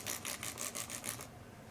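Repeated back-and-forth rasping strokes of a violin bridge being lapped on wet Japanese water stones, about six even passes close up before stopping into quiet.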